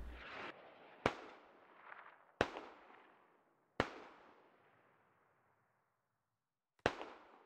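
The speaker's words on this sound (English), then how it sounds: "One more smoke artillery barrage coming in." Smoke artillery barrage in the game Squad: five sharp, loud impacts arrive at irregular intervals, each cracking and then rolling off into a long fading rumble, with silence between the later blasts and no voices.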